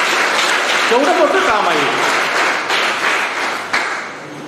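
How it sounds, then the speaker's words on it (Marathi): Audience applause at an ideal-teacher award ceremony, a dense wash of clapping sustained throughout while someone speaks over it. "टाळ्या वाजल्या पाहिजे मित्रांनो"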